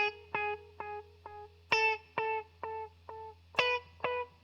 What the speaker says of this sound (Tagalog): Yun yung tunog ng delay.